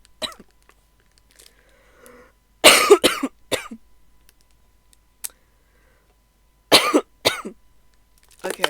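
A person coughs after swallowing water the wrong way: a couple of sharp close coughing bursts, a smaller one after, then a later pair of coughs, with quiet clicks and near-silence between.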